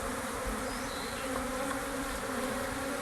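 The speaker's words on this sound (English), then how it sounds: "we just go ahead and drop bees in here" A dense, steady buzzing of many honeybees fills the air at close range around an open beehive during mite checks, continuous and unbroken with no voices.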